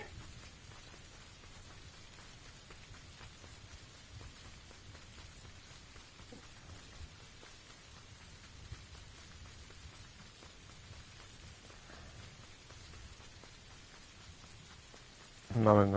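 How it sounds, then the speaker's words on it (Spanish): Steady rain patters continuously on a surface, a dense, even hiss with low rumble underneath, ending in a sudden louder burst; from a PS4 video game. "Con esta lluvia no se oye nada."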